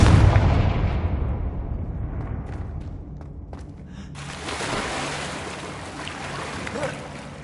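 A Confringo blasting spell goes off in Hogwarts Legacy: a loud, booming burst opens, then slowly rumbles away, and a broad rushing noise follows later.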